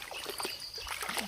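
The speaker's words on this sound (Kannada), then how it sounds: "ಇದೇ ನೋಡ್ರಿ ಹಳ್ಳ, ಸಣ್ಣಗೆ ಹರಿತಾಯ್ತಂದ್ರೆ" A small village stream flowing gently and clear, with soft continuous trickling and light splashing, quiet and close, no talking.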